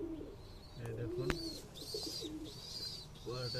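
Breeding pigeons sitting on eggs coo in soft repeated throaty bursts, close but quiet, with a sharp knock and light background rustling among the calls.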